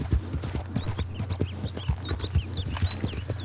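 Horse hooves clip-clopping at a walking pace in Red Dead Redemption 2, a steady rhythmic series of close, distinct hoofbeats over a low ambient hum, with faint bird calls in the background and no talk.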